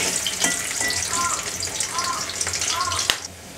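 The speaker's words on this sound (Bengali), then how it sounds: "হালকা করে আলুগুলো ভেজে নেব" Potatoes frying in hot oil for a mutton curry, a bright, crackling sizzle with a few stirring scrapes and short clinks, held close and steady for a few seconds.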